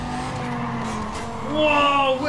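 Racing car in the video game Need for Speed Carbon sliding through a corner, a loud engine drone with a rising tire squeal building toward the end, over continuous game audio.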